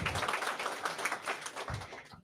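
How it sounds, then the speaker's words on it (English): An audience at a Women's Day event claps in a brief, dense burst of applause, fairly loud and close throughout. "Please give yourselves a hand of applause."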